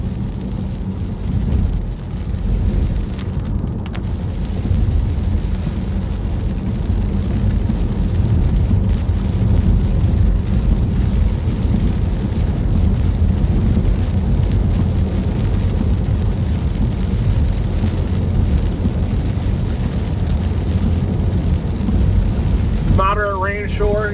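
Moderate rain falls steadily through a thunderstorm over Upstate South Carolina, a constant close patter and rumble-heavy wash lasting throughout, with a brief high warble near the end.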